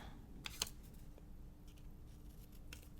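Scissors snip paper in a quiet room while someone cuts out a space on a planner page. A few short, soft crisp cuts come close up, spaced irregularly, with no talking.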